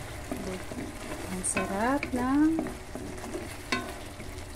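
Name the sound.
sauce simmering and being stirred in a pan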